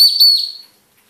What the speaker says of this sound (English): Quite a high-pitched whistle